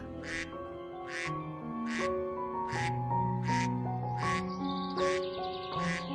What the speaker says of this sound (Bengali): তুমি আমার জন্য হাঁস এনেছো?